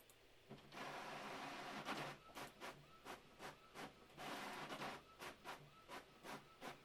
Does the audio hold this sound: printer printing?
yes